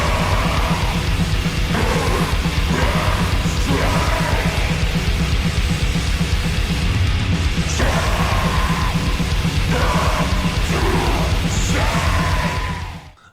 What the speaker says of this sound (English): The guttural growls are cavernous, while the occasional high-pitched shrieks cut through the mix